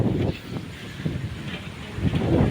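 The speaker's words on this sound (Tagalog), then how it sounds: "Ang lakas ng hangin." Steady wind buffets the microphone, a low rumbling roar that swells and eases in gusts, with no other clear sound.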